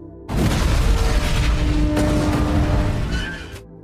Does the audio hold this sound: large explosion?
yes